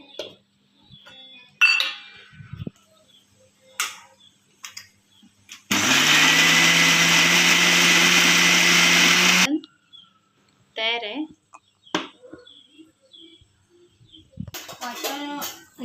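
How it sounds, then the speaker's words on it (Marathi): Mixer grinder blending ingredients with a little water for curd kadhi, a loud, steady whirring run of about four seconds, with brief kitchen clinks and talk before and after. "हे सगळं हे सगळं आता मिक्सरला लावते"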